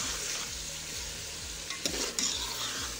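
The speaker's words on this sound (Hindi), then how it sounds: "अब मैं पोटैटो को फ्राई करूँगी" Potatoes frying in a pan, a steady sizzle with a low rhythmic scraping pulse and a couple of brief louder clatters toward the end.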